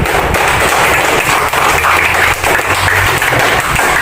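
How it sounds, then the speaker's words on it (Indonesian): A group applauds, dense steady clapping from many hands filling the room for several seconds, close and loud. "Beri tepuk tangan untuk Jaki."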